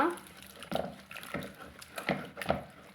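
Cooked lentils for thick paruppu being churned by hand with a wooden mathu, giving a few soft, wet squelching strokes at an irregular rhythm, close and moderately quiet.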